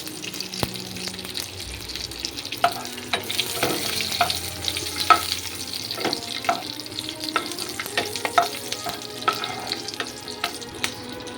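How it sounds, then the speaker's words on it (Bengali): Nigella seeds and slit green chillies fry in hot oil while being stirred for a sesame and pointed gourd dish. A low, continuous sizzle runs under frequent scraping and clinking from the utensil, with no voices. "এই তেলেই আমি দিয়ে দিচ্ছি কালো জিরে ফোড়ন দিচ্ছি, আর দিয়ে দিচ্ছি"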